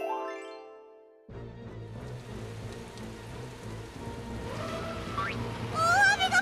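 Heavy rain pours down steadily as a broad, dense wash of noise that swells louder toward the end, following a brief tonal musical intro.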